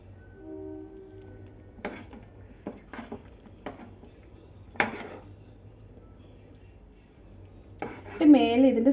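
Metal utensils clink against a dish as chicken pieces are served onto ghee rice, sparse sharp taps spaced over several seconds, ending in a louder cluster of scraping and clatter.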